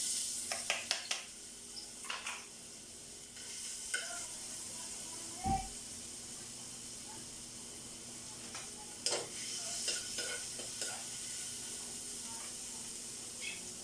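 Garlic sizzles and hisses in a hot pan while being stirred, the start of sautéing for ginisang munggo, with scattered clinks and scrapes of a utensil at a quiet, close level.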